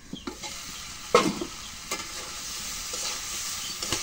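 Broth poured into sautéed jackfruit curry in a pan, with a steady moderate sizzle, a few sharp splashing bursts and stirring scrapes, no talking.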